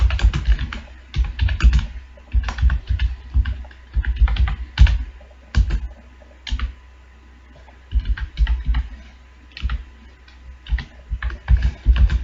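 C code is typed on a computer keyboard in quick, loud clattering bursts of keystrokes separated by short pauses.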